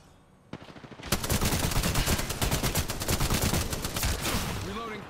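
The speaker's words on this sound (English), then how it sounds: "They're shooting at me." Rapid automatic gunfire from an Apex Legends firefight, loud and dense bursts crackling almost continuously after a short quiet opening, with a few tonal game cues near the end.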